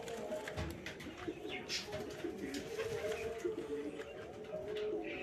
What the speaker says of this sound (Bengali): এটা নতুন নিয়ে আসা গিরিবাজ, ডিম দিয়েছে।